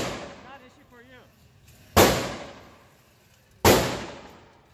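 Two loud 9mm handgun shots fired at a target, sharp reports about two seconds apart with echoing decay, preceded by brief talking nearby.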